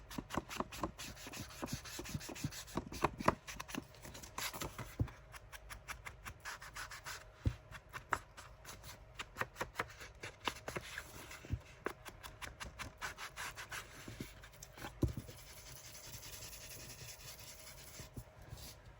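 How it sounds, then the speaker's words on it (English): A junk journal page is sanded by hand, with quick repeated rubbing strokes in an uneven rhythm, quiet and close, and no talk during the sanding. "And then just sand over"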